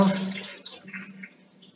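Water from a supply line fed by a Lubi solar submersible pump runs into a toilet flush at a farmhouse, a steady close splashing and gurgling that starts strong and gradually eases off, with no talk.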